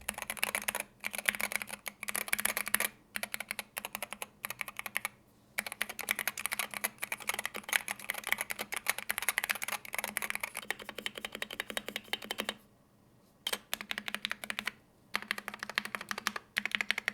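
A Wooting 60% keyboard fitted with Lekker switches, completely stock, typed on in a steady rapid clatter of close, crisp keystrokes with a few short pauses and no talking.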